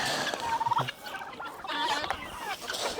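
Chickens cluck and squawk while being fed from a bucket, several birds close by with repeated short calls and a couple of brighter squawks, no talking.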